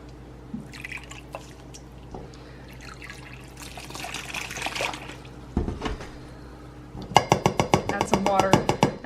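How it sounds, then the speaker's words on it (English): Water is poured into a wild turkey brine of salt, garlic, pepper and oregano, starting as soft trickles and ending in a burst of sharp, close splashing drips, with a voice speaking between the pours. "Add some water."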